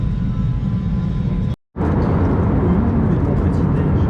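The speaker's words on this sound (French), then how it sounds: "je vais filmer le décollage" An airplane takes off from Cairo airport, its loud, low engine roar filling the cabin, broken by one brief dropout before the roar resumes just as strong.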